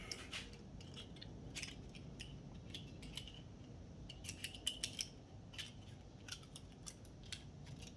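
Scissors trim a crank seal gasket with a series of faint, quick snipping clicks over a quiet background.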